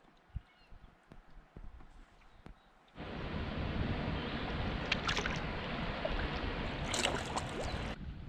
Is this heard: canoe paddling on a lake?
yes